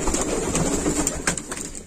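Pigeons cooing close by, soft repeated throaty coos over a steady background hiss, brief and without talk.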